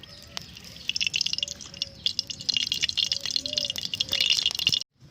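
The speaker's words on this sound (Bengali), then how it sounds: "কড়াই গরম হয়ে গেছে আমি এবার তেল দিয়ে দেবো" Oil going into a hot kadai (wok) gives a steady crackling, dripping patter that builds and grows busier, with a few faint clinks, then cuts off abruptly just before the end.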